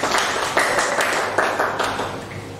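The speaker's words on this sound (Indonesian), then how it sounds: "Tepuk tangan Bu Latri." Small group applause for a homeroom teacher during a school workshop on positive culture, moderate and steady with a few louder bursts, lasting a couple of seconds.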